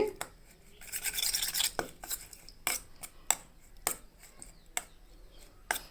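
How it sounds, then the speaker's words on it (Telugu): A spoon stirs chili powder into curd in a bowl for a yogurt chutney, giving soft clinks and scraping taps against the dish in an irregular rhythm, close and fairly quiet, with a longer scraping swirl early on. "పెరుగులో అంతా కలిసేటట్టు కలుపుకోవాలి."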